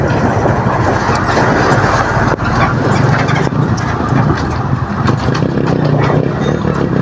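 Long traffic jam on a road in Barangay Canda Ilaya, Lopez, Quezon Province, a dense continuous rumble of nearby engines with occasional rattles and clunks, loud and steady throughout.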